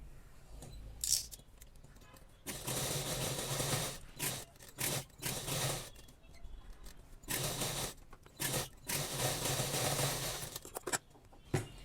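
A sewing machine stitching along a blouse back neckline for patchwork, running in repeated close, loud mechanical bursts separated by short pauses, with no talking.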